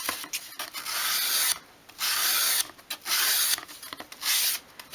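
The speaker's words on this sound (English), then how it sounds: "you want to take a slightly harder sandpaper. I've got my 180 here, and we want to create a chamfer along this top edge" 180-grit sandpaper sweeps along the top edge of a small wooden piece to form a chamfer, giving about five close, raspy rubbing strokes separated by brief pauses.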